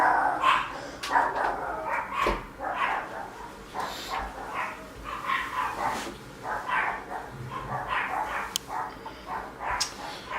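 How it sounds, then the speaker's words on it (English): A dog barks repeatedly indoors, with sharp yips and barks coming in irregular bursts over ten seconds at moderate distance and nobody talking. "Pardon the bark."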